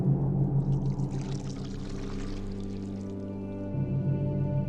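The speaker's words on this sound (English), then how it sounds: "one might be placed on the ground and the other used to pour from a height, creating this cascading waterfall of chocolate" A chocolate drink poured from a height between two cylinder jars, a steady splashing cascade with bubbling, continuous and fairly loud throughout.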